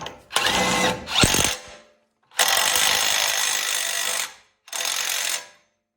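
A ratchet runs down the front CV axle nut on a 2003+ Toyota 4Runner in several close, loud bursts of rapid clicking, separated by short pauses.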